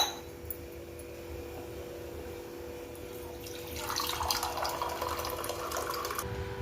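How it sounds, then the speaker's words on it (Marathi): Water being poured into a vessel for a moong dal dish in a home kitchen, a faint room hush followed by a steady splashing pour in the second half, no talk. "आता आपण पाणी घेऊ"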